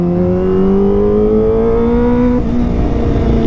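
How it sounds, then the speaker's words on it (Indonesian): A Kawasaki ZX25R sport motorcycle engine revs up steadily with a rising high-pitched whine, loud and close, then shifts and keeps droning. "karena suara nih motor khas banget"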